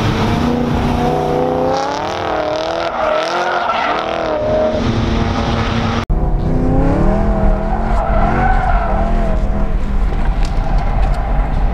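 A BMW E90 M3 sliding around a track, loud engine drone with shifting revs and sustained tire squeal through the whole stretch, close and continuous, broken by a sharp cut midway.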